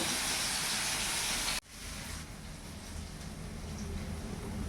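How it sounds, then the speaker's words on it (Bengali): A kitchen mixer grinder whirs loudly as it grinds ginger and five green chillies into paste, then cuts off abruptly, leaving a softer hiss of background noise. "এটা আমি মিক্সিতে পেস্ট করে নেব"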